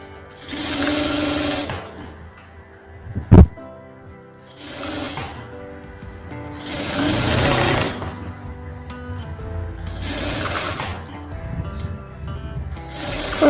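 A sewing machine stitches the lining of a blouse in repeated runs of a few seconds each, with a sharp click between them and quieter pauses, close and steady.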